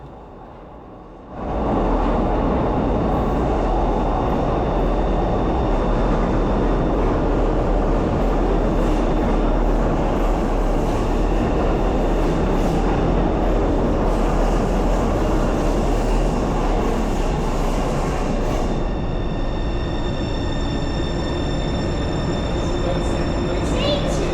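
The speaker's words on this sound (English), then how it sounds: "here comes the new DLR train." A Docklands Light Railway B23 light metro train rumbles steadily into the station, its broad mechanical roar swelling in and holding, with a high whine riding over the top.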